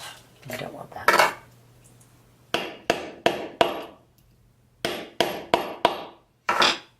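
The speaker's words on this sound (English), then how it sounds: "If you're hammering flat against the marble surface, the rivet itself will come out very flattened" Sharp metallic hammer strikes flattening rivets on a hard marble surface, a few spaced blows, then a quick run of four, a pause, and another cluster of four, loud and close.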